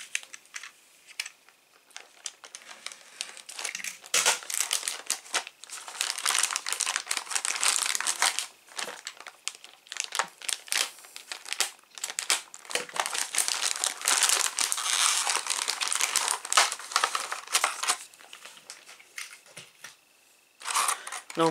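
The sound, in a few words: unwrapping packaging of Star Wars X-Wing model kit parts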